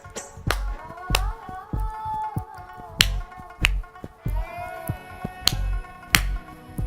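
Sharp hand claps and snaps strike at irregular intervals in a home Bollywood dance class, loud transient bursts over steady background music with a sung melody.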